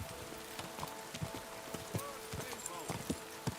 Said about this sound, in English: going this fast through trees on the back of a horse